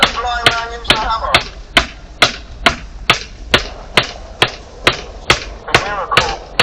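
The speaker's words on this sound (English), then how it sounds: "Look at that blind man using a hammer." A hammer strikes about thirteen times in a steady, evenly spaced rhythm, each blow sharp and close, with voices talking faintly underneath at times.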